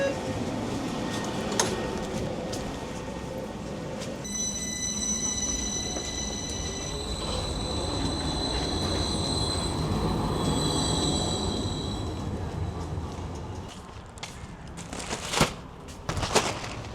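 A train rolls toward a station in Istanbul with steady low rumble and long high wheel squeals that rise midway, then fade toward the end among a few sharp clanks.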